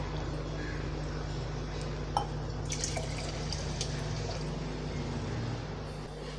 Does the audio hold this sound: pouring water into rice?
yes